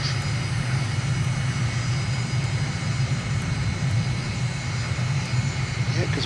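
An aircraft engine in Microsoft Flight Simulator throttles back on approach with flaps fully extended, giving a loud, steady engine drone that continues without pause.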